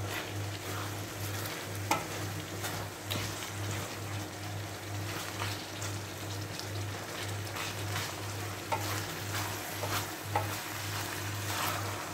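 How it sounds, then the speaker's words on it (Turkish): Tantuni meat is stirred in a pan over steady low sizzling, with soft scraping and occasional faint knocks of the utensil against the pan, and a constant low hum underneath, no talk. "Arkadaşlar böyle karıştırıyoruz ki altı dibi tutmasın diye."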